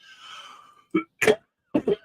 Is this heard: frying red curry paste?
no